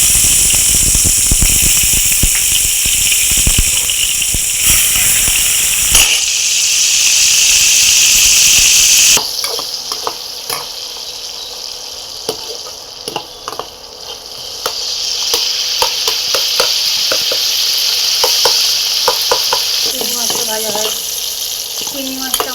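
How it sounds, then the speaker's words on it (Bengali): Salted, turmeric-coated shrimp fry in hot oil in a wok, with a steady loud sizzle and hiss that changes partway through and is broken by scattered stirring clatter, with no talk. "এবার চিংড়ি মাছটা ভেজে নেব। আমি কড়াইতে তেল গরম করতে দিলাম।"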